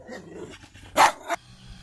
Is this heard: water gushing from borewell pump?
no